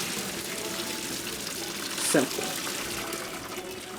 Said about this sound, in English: Take my noodles, pour them in.